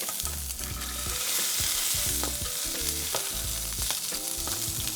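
Salmon fillets searing skin side down in a frying pan, a loud, dense, steady sizzle and crackle close up with occasional utensil scrapes, no voices.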